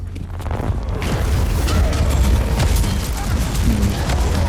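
Bombardment in Warhammer 40000: Inquisitor - Martyr, a continuous barrage of heavy booming explosions rumbling loudly throughout, with occasional sharper bursts layered on top.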